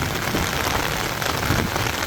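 Torrential rain pounds a house in Kerala, a loud, dense, unbroken roar of drops on the roof and surroundings, with no voices.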